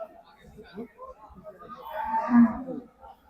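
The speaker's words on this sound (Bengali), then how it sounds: "এগুলো একটা সাইড বড় বড় গরু, ওই সাইডে ছোট ছোট গরু।" Cattle low and moo amid a murmur of voices at the Moukhara cattle market in Natore, Bangladesh, with one longer, louder moo rising near the end in a busy crowded setting.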